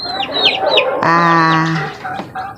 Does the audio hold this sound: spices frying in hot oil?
no